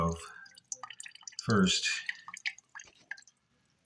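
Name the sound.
water dripping from toilet water supply valve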